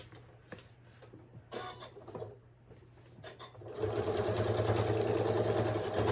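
A sewing machine stitches along the very edge of a fabric cover for a solar power bank. Soft handling noises come first, then the motor starts up and hums steadily and fairly loud for the last couple of seconds. No voices.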